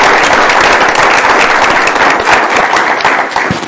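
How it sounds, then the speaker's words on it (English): Loud, close applause from attendees at a city council meeting, dense continuous clapping at full strength throughout the short stretch with no speech over it. "it deserves a round of applause."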